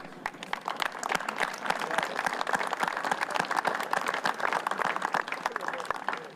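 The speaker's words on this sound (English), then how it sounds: "let's give them a huge round of applause" Steady, dense applause from a crowd at a groundbreaking ceremony in Henderson County, Kentucky, honoring a project board, many hands clapping continuously at even loudness, fairly close, with faint voices mixed in.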